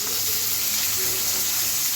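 Fish frying in a large 26-inch Kiam frying pan, a steady close hiss of oil that runs evenly throughout with no talk.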